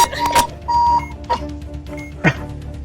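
A game alarm clock on a bomb-defusal module gives short electronic beeping tones mixed with a few clattering clicks, loud and close, in brief bursts.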